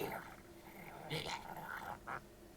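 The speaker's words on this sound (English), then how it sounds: "They're growling at each other." Two cats growling at each other indoors, low rumbling growls rising into a couple of short louder snarls, faint and close, with no clear talk over them.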